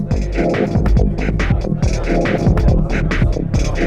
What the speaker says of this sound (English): And maybe add overdrive to all the sounds.